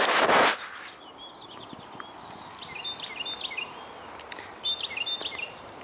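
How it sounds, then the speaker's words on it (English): Birds near their nest by the Arkansas River give repeated sharp chirping calls in short bursts, moderately close, after a brief loud rustle at the start, with no talking. "Can you hear the birds? I think they're mad at me for being by their nest."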